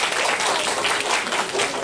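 Steady, dense applause from an audience at a magnet-themed science show, a continuous wash of many hands clapping at close range with no break for nearly two seconds.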